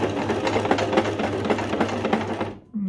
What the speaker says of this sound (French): on va faire un test avec des points droits et des points zigzag, voir si tout fonctionne.